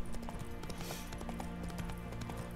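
Steady hoofbeats of a horse galloping in the video game The Witcher 3, a continuous rhythmic clip-clop that is close and even throughout, with no talking over it.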